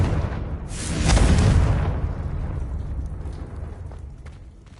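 A single blasting-spell explosion, Confringo, bursts in with a loud, broad roar that swells for about a second, then trails off into a long, fading rumble.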